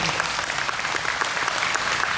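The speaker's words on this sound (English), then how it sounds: "Give those girls another round of applause" An audience at a county fair queen coronation claps steadily and warmly for the contestants, a dense, continuous wash of hands filling the hall without pause.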